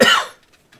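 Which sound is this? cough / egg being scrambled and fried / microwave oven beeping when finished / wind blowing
cough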